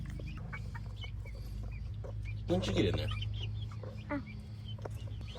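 Soft clucking and scattered chirps from nearby guinea fowl, with a brief louder flutter midway and a person speaking briefly.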